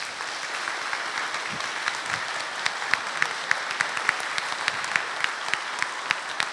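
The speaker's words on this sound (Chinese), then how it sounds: "给他掌声。" Audience applause fills a church concert hall during a fiftieth-anniversary celebration, a steady dense patter of many hands with sharper individual claps standing out, sustained and fairly even throughout.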